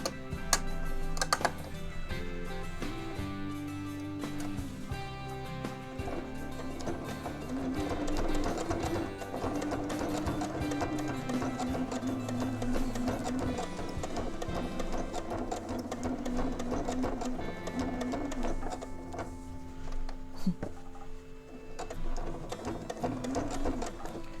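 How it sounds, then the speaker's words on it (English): A sewing machine slowly stitches down the center circle of a Dresden plate wall hanging, giving a continuous rhythmic mechanical whir and ticking that runs steadily at close range, with a few brief stops. "I'm going to sew slow and about 2 or 3 stitches around and stop"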